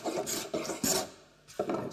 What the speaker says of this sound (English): I can take my scraper and not worry about damaging the edges of my workpiece.